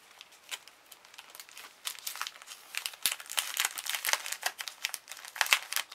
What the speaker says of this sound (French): On dirait du papier de soie.